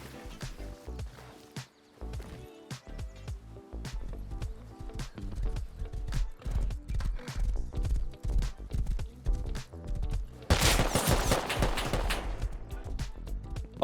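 A horse's hooves clip-clop along a road in the game Rust, with a fast, steady rhythm of loud, close hoofbeats and a brief burst of rushing noise near the end.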